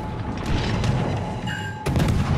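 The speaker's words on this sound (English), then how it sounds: "stupid enough to get hit by the torpedo" A heavy boom from a torpedo striking a ship in a naval combat game, a loud, dense rumbling blast that swells and then hits again with a sharp secondary crack near the end.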